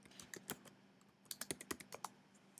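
Typing on a computer keyboard, a quiet close flurry of key clicks in two uneven bursts with a brief pause between, no talking.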